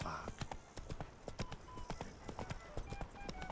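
Roach the horse galloping in The Witcher 3, a quick rhythmic clip-clop of hooves pounding steadily and close throughout.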